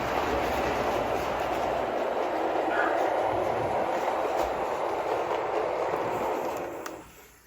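A model railroad train rolls down the main line toward the arrival-departure track, giving a steady, broadband running rumble that holds for about seven seconds and then fades out quickly at the end.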